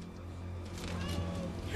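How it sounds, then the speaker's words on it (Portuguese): Kittens meow from a box on a rooftop during flood rescue, where two adult cats were also stranded; faint mewing sits under steady low background noise and voices. "ouvi um gatinho miando lá dentro"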